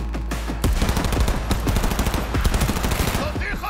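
Rapid automatic gunfire in the video game Cyberpunk 2077, loud and dense, with shots rattling in quick bursts after a short quieter opening, with no speech.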